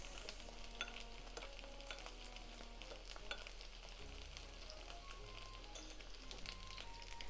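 Soft, continuous stirring and light sizzling as a soy sauce and sweet chili sauce mixture is mixed, faint and steady without speech.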